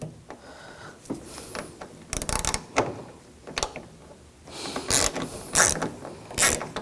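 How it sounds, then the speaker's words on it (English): A T25 socket ratchet loosens a screw inside the door of a 2000–2006 BMW X5, giving irregular close clicking and scraping bursts with short pauses between strokes. "Now I'm going to use a T25 socket. There's a screw right behind here."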